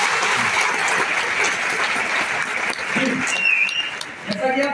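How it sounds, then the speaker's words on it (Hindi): Audience applause for Uttarakhand at a talk or presentation, a steady wash of many hands clapping loudly throughout, with a voice speaking over it. "एक बार जोरदार तालियां उत्तराखंड के लिए"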